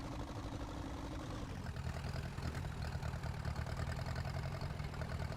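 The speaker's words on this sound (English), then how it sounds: "I really do like this tractor. It's really cool. It actually sounds perfect as well." A tractor engine idles in the Farming Simulator 19 game, a continuous low, rumbling drone with a slight shift in pitch partway through, steady and close with no voices.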